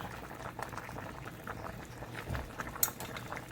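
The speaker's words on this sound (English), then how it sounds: "so I got it back up to a boil" Chicken meatball soup boils in a pot, with soft, irregular bubbling and small pops that stay faint and close throughout.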